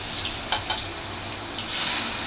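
Fish fries in a pan with a continuous, moderate sizzle, close by, broken by a couple of brief sharper crackles and swelling slightly toward the end; no one speaks.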